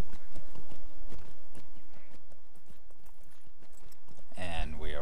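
Horse hooves clip-clop at a steady walking rhythm in the online game Lord of the Rings Online, riding toward Hobbiton; the hoofbeats are close and clear, with a horse snort or whinny near the end.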